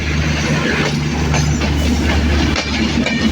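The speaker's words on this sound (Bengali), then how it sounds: "আমাদের পাথুরিয়া জংশন স্টেশনে প্রবেশ করলো মধুমতি এক্সপ্রেস" The Madhumati Express pulls into Pachuria Junction station with a steady, loud low rumble and engine drone, and faint wheel clatter runs throughout.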